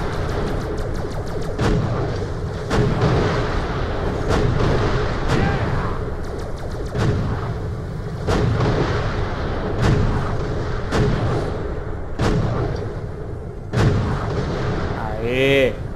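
Gunfire from the first-person shooter Borderlands: The Pre-Sequel, with sharp shots recurring every second or two over a dense, busy game soundscape, ending in a rising warbling effect.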